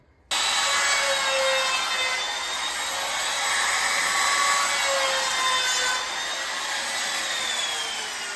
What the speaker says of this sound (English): Before we cut anything, we're gonna route these edges though.